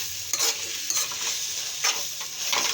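Bitter gourd curry frying in a pan while being stirred, with a steady bright sizzle and several scraping spoon strokes against the pan close by, no voices.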